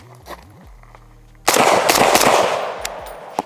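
A suppressed .308 rifle fires outdoors, giving a sharp muffled report that trails into a rolling echo, with a fainter pop near the end.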